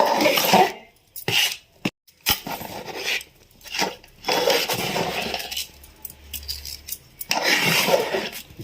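Dough for ariselu sweets is mixed by hand in a metal vessel, loud close clattering and rubbing bursts with brief pauses, a metallic jangle running through the stirring.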